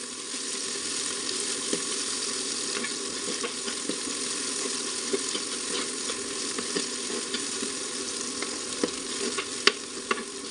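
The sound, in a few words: ginger and garlic frying and being stirred in a pan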